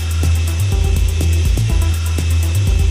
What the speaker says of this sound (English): Drill straight through to the wall